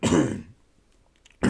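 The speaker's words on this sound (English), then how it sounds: "my unbeaten streak of coughing or clearing my throat on this podcast" A podcast host clears his throat twice at close range, each short, rough burst separated by a moment of near silence.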